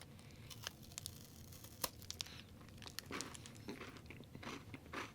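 A Nestle Coffee Crisp chocolate bar's wrapper being torn and crinkled open, with sharp rustling snaps and crackles spread through the clip, close and fairly quiet, alone with no talking.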